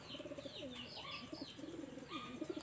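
Pigeons in a loft coo softly and repeatedly in low, rolling bursts, with a few higher chirps mixed in, faint and close.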